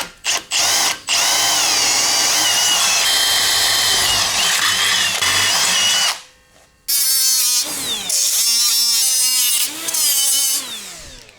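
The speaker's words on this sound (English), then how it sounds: "So let's get these holes punched, drilled, and then move on to the bottom bracket." A power drill boring holes in a steel bracket for a turbo LS street truck build, loud sustained whining bursts that rise and fall in pitch, with a brief pause midway before the drill bites again.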